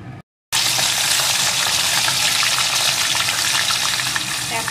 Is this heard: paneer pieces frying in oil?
yes